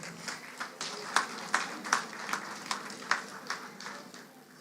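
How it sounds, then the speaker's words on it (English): A small gala audience at a Heritage Day cultural event in La Plaine claps in sparse, evenly spaced beats for a few seconds. The claps sound thin and slightly distant. "Let's give him a round of applause,"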